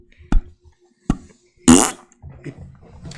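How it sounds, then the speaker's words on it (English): A fart sound effect bursts out loud and close, one brief rasping blast, between a couple of short knocks and followed by murmuring voices. "Corey Graves, he hates the sound of farts. All fart sounds."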